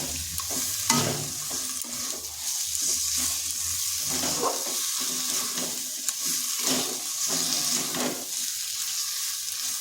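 A cabbage mixture with fried nuts frying in a pan, stirred steadily, with a continuous close sizzle and repeated scraping of the spoon against the pan.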